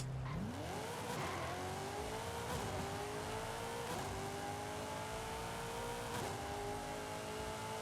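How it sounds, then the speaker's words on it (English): Car engine in Forza Horizon 5 launching off a drag start, revving up sharply and climbing steadily through several quick gear shifts at a loud, continuous roar. "Handbrake, throttle, get on the brake, let it fall down to the resting RPM, and let it rip."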